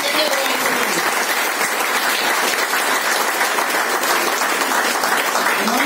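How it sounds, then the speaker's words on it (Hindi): Loud, dense applause from a large audience at a Hindi-language business talk, a continuous roar of clapping that stays full and even throughout. "जोरदार ताली होना चाहिए।"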